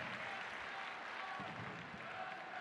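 Stadium crowd at a women's soccer match between Portland Thorns and Seattle Reign applauds an injured player getting back to her feet; steady, fairly faint applause with crowd murmur throughout.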